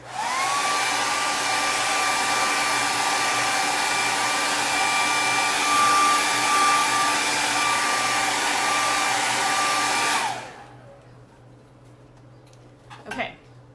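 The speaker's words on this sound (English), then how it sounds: "I'm going to use my handy dandy blow dryer." A blow dryer drying paint on marshmallow Peeps roars steadily at close range for about ten seconds, then cuts off, leaving quiet with a brief clatter near the end.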